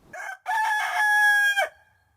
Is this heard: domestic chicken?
yes